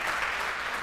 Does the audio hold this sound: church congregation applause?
yes